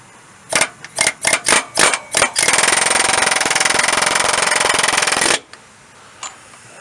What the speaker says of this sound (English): What you want to do is take your air hammer